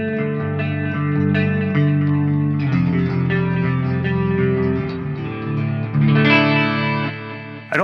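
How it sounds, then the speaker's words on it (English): Electric guitar played through a Qi Etherealizer effects pedal, chords and arpeggios shimmering with chorus, echo and lo-fi wash, ringing continuously for several seconds, loud and close with no talking. "So with the Etherealizer, let's go ahead and turn that on and hear how we sound now."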